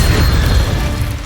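Expelliarmus disarming spell fired in Hogwarts Legacy, a loud, dense booming burst of magic that holds steady through its short length with a deep rumbling low end.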